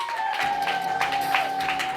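Church congregation applauding and ululating in praise of Jesus, a dense, steady wash of clapping with a sustained high trilling ululation running through it, moderately loud and continuous.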